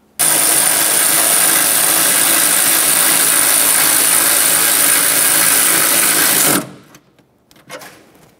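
A 10mm nut on an engine bracket of a 2011-2020 Toyota Sienna 3.5L V6 run down by a loud, steady whirring power driver for about six seconds, stopping abruptly and followed by a few faint handling clicks.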